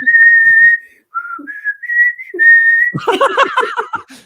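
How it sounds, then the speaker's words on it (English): A person whistles a melodic tune in clear sustained notes with short pauses, then voices break into laughter and chatter near the end. "I do the whistle bit."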